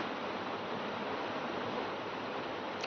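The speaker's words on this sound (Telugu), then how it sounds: "చూస్తున్నారు కదా, నీళ్ళు అయితే వేసేస్తున్నా." Continuous rushing splash of water being poured over a Venkateswara idol during a ritual bathing, steady and close, with no voices.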